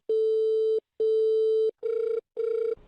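A landline telephone rings through an earpiece in four even electronic bursts, each a steady tone about a second long with brief gaps between them, loud and alone with no voices.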